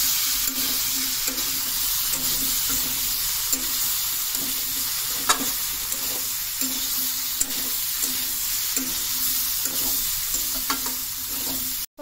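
Bitter gourd and potato pieces are stirred in a pan, the sizzle of frying running steadily throughout with regular scraping strokes of a spatula, close and fairly loud, with no voices.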